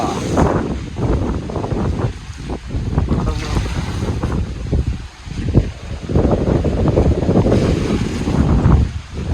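Wind blows outdoors on a hot day, buffeting loudly and roughly in continuous gusts that swell and ease. No voices are heard.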